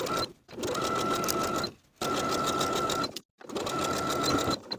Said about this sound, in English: Sew this circle with a 3/8 inch seam allowance.